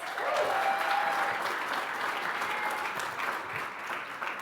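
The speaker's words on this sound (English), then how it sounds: "Can we give him a round of applause?" Applause from an audience at a startup demo day, broad steady clapping that fills the room for several seconds and eases slightly toward the end, with no voices over it.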